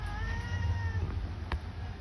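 A tomcat meows in a long, drawn-out cry close by at night, followed by a sharp click against a steady low background hum.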